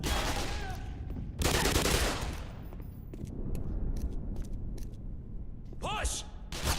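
Bursts of gunfire from the player's gun in a video game crackle in several short volleys, with an explosive burst near the end, mixed under loud game sounds and intermittent talk.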